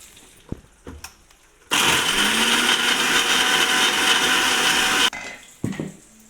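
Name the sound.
mixer grinder grinding dried coconut pieces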